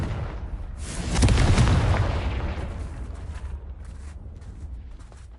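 A Confringo spell blast in a Hogwarts wizarding game, one heavy booming explosion that swells quickly and rumbles away slowly over several seconds, with no voices.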